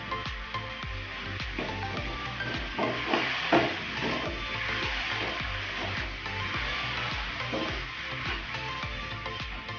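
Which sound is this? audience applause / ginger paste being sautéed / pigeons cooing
ginger paste being sautéed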